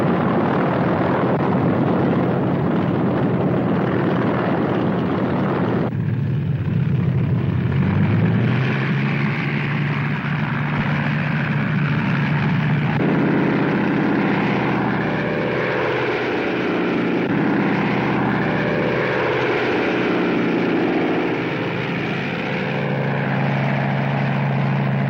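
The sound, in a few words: WWII bomber aircraft engines getting underway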